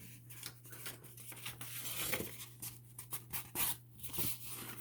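Paper being cut with scissors for a handmade envelope, close and fairly quiet, with irregular snips and rustles over a steady low hum.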